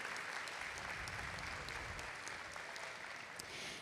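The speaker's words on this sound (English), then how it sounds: "Let's give them a round of applause," Audience applause for schoolchildren in suits at a San Antonio school district State of the District event, a steady dense wash of many hands clapping throughout, fairly distant and even in loudness.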